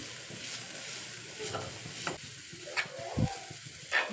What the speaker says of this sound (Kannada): ಏನು ಪೇಸ್ಟ್ ಮಾಡ್ಕೊಂಬಂದಿದ್ವಲ್ವ ಅದನ್ನ ಹಾಕೋತಾ ಇದ್ದೀನಿ ಚೆನ್ನಾಗಿ ನಾವು ಫ್ರೈ ಮಾಡ್ಕೋಬೇಕು